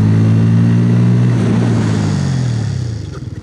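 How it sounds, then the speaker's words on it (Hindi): A TVS Apache RTR 160 2V or Bajaj Pulsar N160 motorcycle accelerates up to 60 ahead of a front brake test, its engine note rising steadily and loud, then easing off at the end. "तो चलिए फिर सबसे पहले इसकी जो फ्रंट ब्रेक है उसको टेस्ट कर लेते हैं एट द स्पीड ऑफ 60।"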